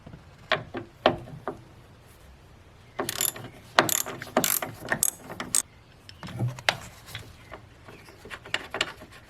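A ratchet with a 13mm socket works the battery hold-down bolt on a GMC Sierra or Chevy Silverado, sounding as close, crisp clicking bursts in uneven runs with short gaps between them.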